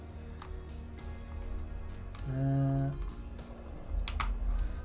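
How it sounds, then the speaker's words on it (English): Typing on a computer keyboard, scattered soft clicks at a close distance over a quiet hum, with a short tonal electronic sound in the middle and a person speaking. "now we've got a working keyboard"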